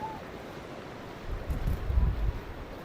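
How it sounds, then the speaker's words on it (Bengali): Large ocean waves at Cox's Bazar beach rumble under heavy wind buffeting, with a deeper surge swelling toward the end of the short stretch. "এত বড় বড় ঢেউ সমুদ্রে"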